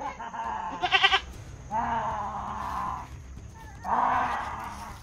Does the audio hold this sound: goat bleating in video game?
yes